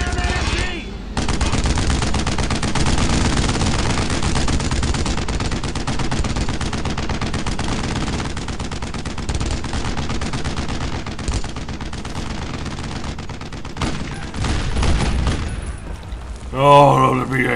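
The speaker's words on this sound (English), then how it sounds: "I need suppressing fire on that MG!" Machine gun fire in Brothers in Arms: Road to Hill 30 rattles on nearly without pause, loud and dense in the WWII battle, mixed with other gunshots and shouted voices.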